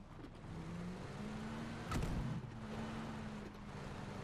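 A car drives in the PUBG battle royale video game, its engine droning steadily at moderate volume with a brief louder surge midway and no talking.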